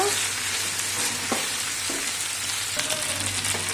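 Okra stirred in hot oil over ginger and garlic in a pan, a continuous bright sizzle with a few soft scrapes of the spoon, close and steady with no talking.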